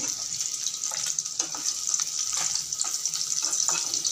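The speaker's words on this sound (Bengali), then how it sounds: "দেখুন, মাছগুলো ভাজা হয়ে গেছে" Parshe fish pieces frying in a pan, giving a steady close crackling sizzle with small pops and spits throughout and no talk.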